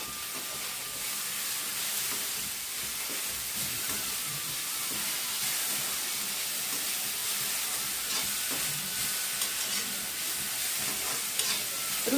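Curry leaves sizzling in hot oil in a pan: a continuous loud frying hiss that stays even throughout, with small crackles and no talking.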